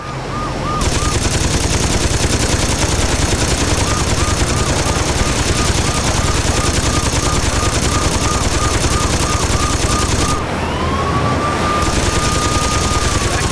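Machine gun fire from the video game Saints Row 2 rattles in a continuous, loud, rapid stream for the whole clip, with a siren-like wail running over it.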